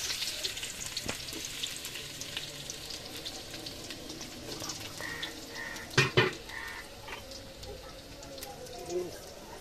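Chopped onion frying in mustard oil in a home kitchen pan, a steady soft sizzle with scattered clinks and a couple of sharper knocks, close by.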